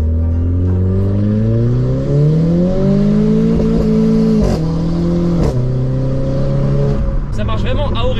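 Renault Clio 4 RS with a stage 3 tune accelerating hard on a motorway, its engine note rising loudly through the revs, with an upshift midway and a brief sharp burst near the end.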